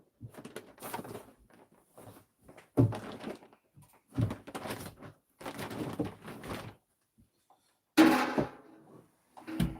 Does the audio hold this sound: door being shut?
yes